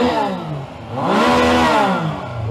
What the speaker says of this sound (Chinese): 能听到吗？ 三缸的排气声。